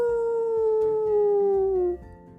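A wolf howl as a story sound effect: one long, loud, sustained wail that slowly falls in pitch, rising over faint wind-like rumble before cutting off near the end.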